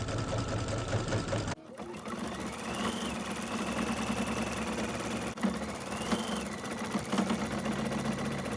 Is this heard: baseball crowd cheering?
no